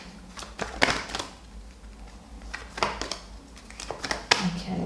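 Tarot cards being shuffled at close range, giving quiet repeated riffling and slapping bursts at irregular intervals, with no talk.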